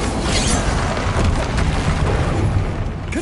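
A Bombarda blasting spell explodes in the Hogwarts Legacy video game, a loud booming burst with splintering debris that rolls on over steady background game noise.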